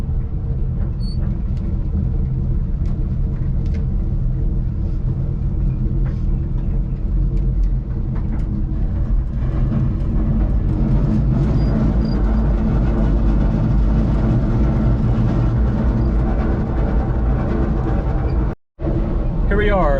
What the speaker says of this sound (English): there's a bunch of unhappy sounds coming from this truck